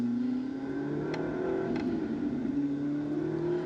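Trofeo Pirelli race car engine at Jerez circuit, a steady sustained drone with a slowly rising pitch as it heads toward the start, with no voices.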